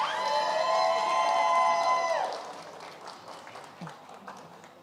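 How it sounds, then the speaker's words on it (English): An audience at a leadership institute demo day cheers with whistles and shouts, then the noise gives way to scattered applause and crowd murmur. "Ladies and gentlemen, another round of applause for Ms."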